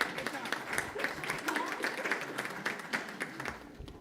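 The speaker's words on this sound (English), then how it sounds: "Let's give them a round of applause, please." A crowd at a school district board of trustees meeting applauds its board members, with continuous clapping of moderate loudness and a few voices mixed into the room sound.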